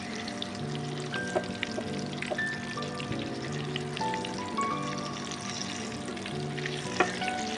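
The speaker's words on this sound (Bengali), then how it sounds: "কাবাবটা বেশ লালচে লালচে করে ভাজতে হবে, যাতে ভেতরে চিকেনটা ভালোভাবে সিদ্ধ হয়।" Chicken rasoli kebabs fry in oil in a pan, giving a soft, steady sizzle with faint bubbling. Quiet tonal hums and a few clicks can be heard near the pan, and no one speaks.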